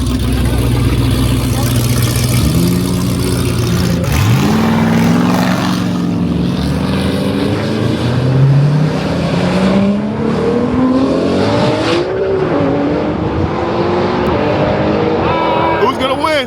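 Nissan GTR and Mopar cars in a roll race, engines roaring loud and close with rising and falling tones as they accelerate past, sustained engine noise filling the whole stretch while spectators talk and cheer over it.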